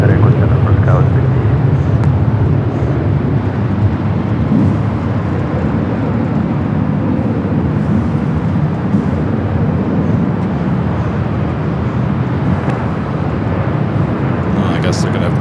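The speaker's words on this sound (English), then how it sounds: "All right, Air France number 2 for takeoff." Air France airliner, an A350, taking off at Los Angeles International Airport, with a steady loud broadband jet engine roar holding throughout, while a voice speaks faintly over it.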